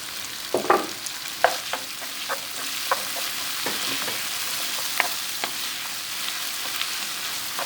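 Meatballs and finely chopped arugula sautéing in a hot pan for a meat-and-vegetable stew, with a steady close sizzle broken by scattered sharp spatula scrapes and clicks.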